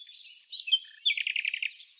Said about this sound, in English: the European bee-eater